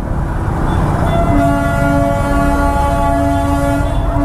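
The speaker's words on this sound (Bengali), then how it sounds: "এই যে টয় ট্রেন আসছে" Darjeeling toy train passing close by on a mountain road, a loud continuous rumble with a sustained horn blast holding through most of the moment.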